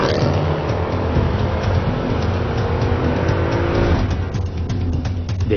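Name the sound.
car speeding during a chase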